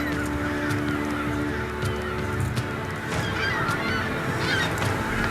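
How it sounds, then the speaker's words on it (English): A dense colony of large birds calls continuously, with overlapping honking and grunting sounds all around, loud and close, with no voices. "A colony of American white pelicans, something very few humans have seen at close quarters, is right there"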